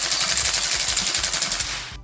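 A battery-powered airsoft gun fires on full auto, a loud, close, rapid mechanical rattle of many shots in steady succession for about two seconds before stopping.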